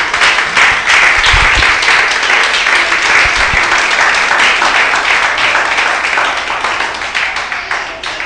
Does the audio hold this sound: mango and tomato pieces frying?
no